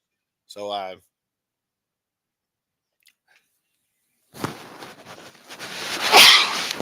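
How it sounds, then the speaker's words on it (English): A short burst that sounds like a sneeze near the microphone, followed after a pause by loud rustling noise. "I'm sneezing right into the microphone"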